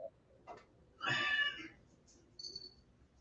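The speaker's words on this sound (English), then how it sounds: "do you hear my cat screaming at me?" A hungry cat meows insistently to be fed in a quiet room: a faint short call, then one loud drawn-out meow and a brief softer cry, heard alone.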